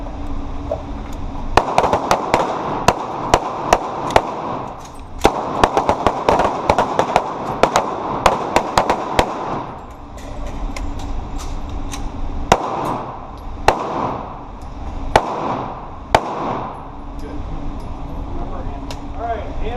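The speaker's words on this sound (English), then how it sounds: "shoot the gun until slide lock, emergency reload" Repeated pistol gunshots from a Taurus G2C on a defensive pistol class range, fired in quick strings until slide lock with short pauses for reloads; sharp, loud cracks with voices talking between the volleys.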